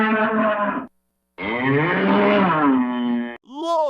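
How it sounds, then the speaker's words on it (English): A bull moos in two long, deep, drawn-out calls separated by a short pause, followed by the start of a third call. The calls are loud and close, with no other sound around them. "Bull."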